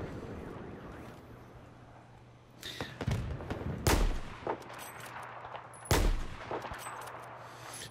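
Gunfire in a Battlefield 4 multiplayer match: several sharp, loud shots crack out over a low ambient game rumble, with scattered smaller impacts between the bigger bursts.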